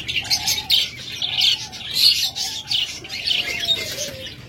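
An albino budgerigar pair chirps and chatters in a cage, a quick run of bright overlapping tweets and warbles, fairly close and continuous, with no talk.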